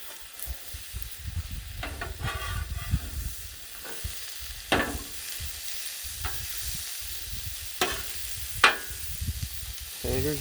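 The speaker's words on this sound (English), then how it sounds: "Got some onions and peppers heating up." Onions, peppers and frozen White Castle taters sizzle on a Blackstone griddle, a steady close frying hiss broken by several sharp scraping or stirring strokes, with no talking.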